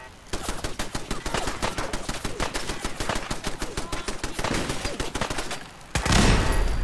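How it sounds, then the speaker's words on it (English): Rapid automatic gunfire in the video game Fallout 4, a long dense burst of sharp repeated shots lasting several seconds, loud and close, then a brief pause before a heavier blast. "Who's shooting at me?"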